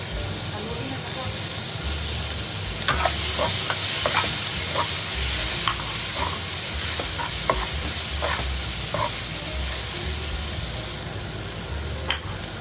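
Vegetables with ginger and garlic sizzle and fry steadily in a pan, with scattered clinks and scrapes of a utensil stirring them throughout.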